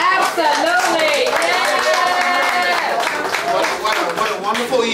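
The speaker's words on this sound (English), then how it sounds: "Let's give everybody a round of applause." Audience at a women entrepreneurs event breaks into sustained applause, dense and loud, filling the room with a continuous wash of clapping.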